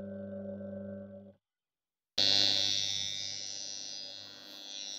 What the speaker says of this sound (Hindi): तो दोस्तों हमने लास्ट पे जब टाइमर को कर दिया तो हमारा ये बजर बजने लगा